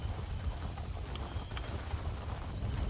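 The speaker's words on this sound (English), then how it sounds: "Get back on the horse" Rapid hoofbeats pound in a steady galloping rhythm over a low rumble in The Elder Scrolls Online, continuous and fairly close, with no one speaking.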